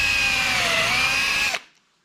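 A power drill pre-drills a hole in wood with a countersink bit, whining steadily and loud at close range for about one and a half seconds, then cutting off abruptly and leaving near silence.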